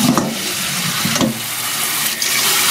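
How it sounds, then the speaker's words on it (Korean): Blanched bok choy rinsed under cold running water, a steady tap-water rush with a few brief splashes, close and moderately loud, with no talking. "바로 건짐을 해서 찬물에 헹굼을 해줍니다."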